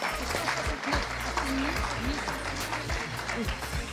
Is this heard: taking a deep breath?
no